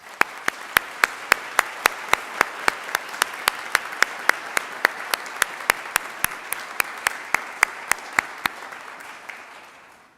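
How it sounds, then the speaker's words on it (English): Clapping at a graduation ceremony comes as a long run of sharp, evenly spaced claps at a steady beat, fairly close and clear, lasting about eight seconds before stopping. "why don't we give them a well-deserved round of applause?"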